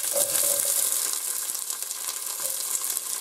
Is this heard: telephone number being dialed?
no